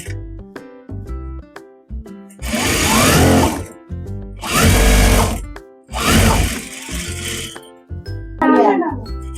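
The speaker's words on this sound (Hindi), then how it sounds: "अब इसको अंदर की तरफ फोल्ड करते हुए हम इसमें सीधी सीधी लाइन 1 इंच की स्पेस डालते हुए स्टिचिंग लगा लेनी है।" A sewing machine stitches straight parallel lines along a folded salwar hem. Three long, loud, fast-rattling runs and one short final burst sit over background music.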